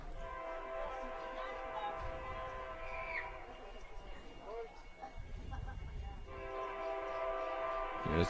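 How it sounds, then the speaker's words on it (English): A train rolls past a baseball game between Northridge and Fort Morgan, its steady rumble and horn-like tones sustained throughout under a play-by-play announcer's talk. "As the train gets set to roll through."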